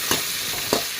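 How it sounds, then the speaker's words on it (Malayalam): Tomato and green chillies sauté in a hot pan, a steady sizzle broken by two quick stirring scrapes. "ഇതൊന്ന് വഴറ്റി നന്നായിട്ടൊന്ന് എടുക്കണം."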